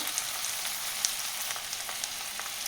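Onions sauté in a pan for a moong dal and banana flower dish, with a steady, close sizzle of hot oil and a few faint ticks and crackles. There is no talking.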